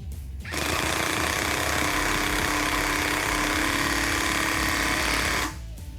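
A power tool hammers rapidly and continuously at close range, driving a harmonic balancer onto an engine, starting abruptly and stopping after about five seconds.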